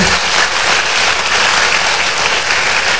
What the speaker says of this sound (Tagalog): Mukhang mahina po ang palakpak nyo.